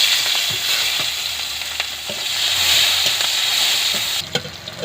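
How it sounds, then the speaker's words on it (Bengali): Chopped onions hit hot oil seasoned with panch phoron five-spice and fry with a steady, close sizzle. Occasional spatula taps and stirring scrapes sound through it, and a louder clatter comes near the end. "এবারে দিয়ে দেবো পেঁয়াজ কুচি"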